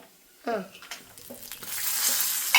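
Sweet flattened rice fried in ghee is stirred in a pan, with scraping spoon strokes and soft clinks building into a rising, hissing sizzle, briefly overlapped by a voice at the start.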